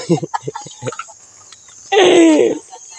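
A few short voice-like sounds, then a loud, close hen squawk lasting about half a second, beside a laying nest.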